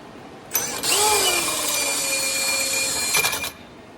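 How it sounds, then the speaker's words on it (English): A new Rogue Fab tubing notcher cuts into steel frame tubing for a cross brace, a loud steady grinding whine starting abruptly, holding for about three seconds with a falling pitch sweep at the start, then stopping. "I finally got my nice new Rogue Fab tubing notcher set up."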